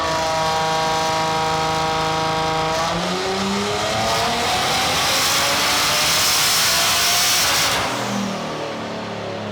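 Stock-engine BMW M3 on a dyno, roaring loud as it revs hard up through the gears, peaking in a sustained howl before dropping back to a lower idle burble near the end.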